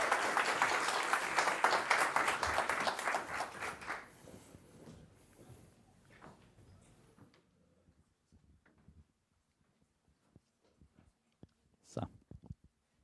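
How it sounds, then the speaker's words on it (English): Applause from a conference audience at a digital summit runs for about four seconds, then fades into scattered claps and room noise, followed by near-silence and a few soft knocks and handling sounds. "And a round of applause"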